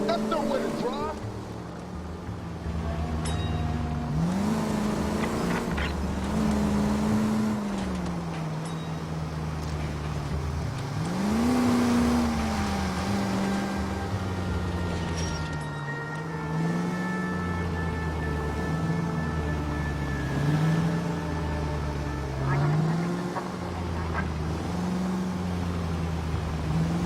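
A car drives in a video game with a continuous engine drone whose pitch climbs and drops with repeated gear shifts and acceleration, while characters talk over it.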